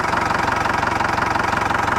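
A car engine ticking over at a steady idle after the revs have been lowered, close, loud and continuous with an even mechanical pulse and no voices.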